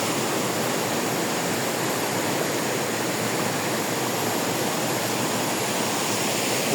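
A cold, clear spring-fed river in Antequera, Bohol, Philippines rushes steadily, a constant broadband hiss of flowing water, close and even, with no voices.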